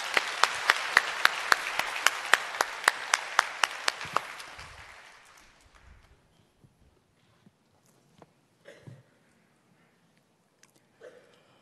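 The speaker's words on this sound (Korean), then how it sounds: "나오실 때 우리 박수로 환영해 주시기 바랍니다" A church congregation claps to welcome a testimony speaker at a Sunday worship service, a dense burst of applause that holds steady for several seconds, then thins out and fades to a few scattered claps and small movements.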